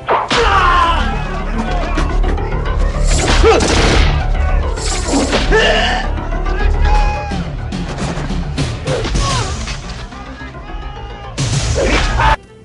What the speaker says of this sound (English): We always prepared Arnold's guns with blanks, but sometimes Arnold would improvise weapons.